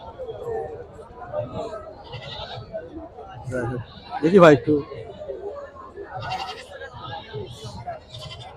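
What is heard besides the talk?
goats bleating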